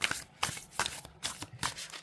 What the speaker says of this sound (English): Let's see how these cards shuffle.